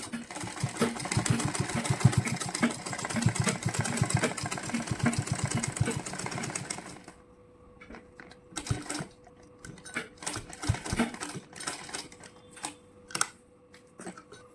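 Domestic sewing machine stitching the leg of a ladies' designer pant: a steady rapid mechanical whir for the first half, then stops and short starts with small clicks and handling noises, close and fairly loud, no speech.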